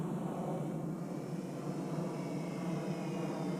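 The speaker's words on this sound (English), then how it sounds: "Let's do a little flyby here." An RC model airplane, an FMS PA-18 Piper Cub with 1300mm wingspan, passes by at half throttle on a cold snowy day, a steady distant motor drone holding evenly throughout.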